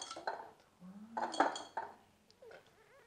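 Glassy clinks and knocks as eggs are set into a one-litre glass jar for preserving, a few clustered contacts followed by softer handling sounds, near and fairly quiet.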